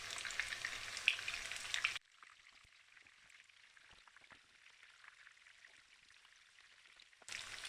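Rice cakes frying in a pan, turning crispy: a steady close crackling sizzle that drops to a faint hiss for several seconds before the bright spattering returns.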